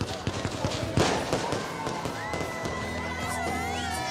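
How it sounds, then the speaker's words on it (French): Outdoor wedding fireworks bang and crackle in a burst of sharp pops and thumps, loudest early, followed by whistling streaks and sustained crackle while people talk over it. "Il doit y avoir 100 feux d'artifice, mais il n'y en a pas 250 quoi"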